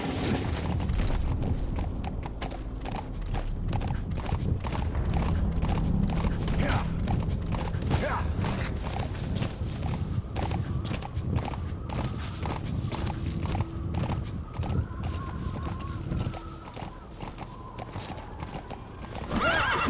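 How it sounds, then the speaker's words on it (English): A horse in Metal Gear Solid 5: The Phantom Pain clip-clops in steady, rhythmic hoofbeats close by, with neighs and whinnies mixed in and light mechanical noises underneath. "Horse, get over here."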